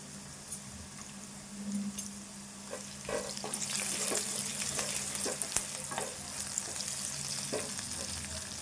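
Sliced onion frying with freshly pounded ginger garlic paste in a pan for prawn curry, a steady close sizzle with scattered stirring scrapes and pops.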